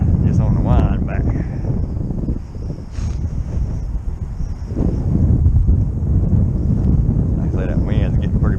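Strong gusty wind, around 20 mph, buffets the microphone on a lake during trout fishing, a loud continuous roar with rumbling low gusts rising and falling throughout.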